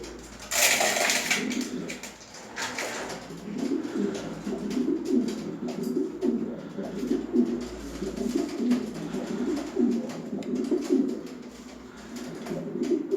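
A male pigeon coos steadily in rhythmic, repeated phrases while courting a young, small female, with a brief flutter of wings near the start.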